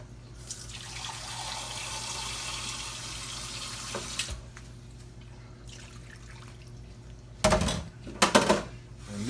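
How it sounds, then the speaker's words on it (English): Water poured into a pan of smothered pork chops makes a steady close liquid wash and trickle across most of the stretch, ending in a few louder splashy bursts and clatters near the end, with no talking. "I'm gonna add some more water liquid to this."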